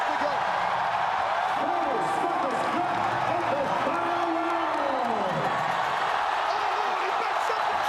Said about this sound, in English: This crowd trying to rally Belingon home.